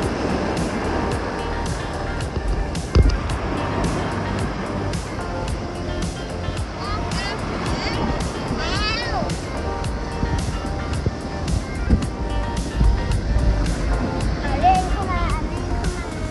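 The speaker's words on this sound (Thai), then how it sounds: "เช้านี้คลื่นค่อนข้างแรงนะคะถ้าเทียบกับเมื่อวาน" Strong waves break and wash onto the beach at Pranburi in a steady, broad roar of surf, with a voice speaking over it.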